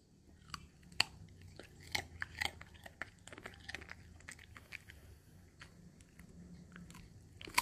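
A poodle crunches and chews on a piece of raw sweet potato, with repeated sharp bites and wet mastication sounds coming close and fairly quiet in an otherwise calm room.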